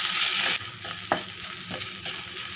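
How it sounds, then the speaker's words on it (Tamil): Okra fries with chilli and coriander powder in a pan over a low flame, giving a steady close sizzle broken by spatula scrapes and stirring strokes. "இப்போ நல்லா ஃப்ரை பண்ணிக்கோங்க."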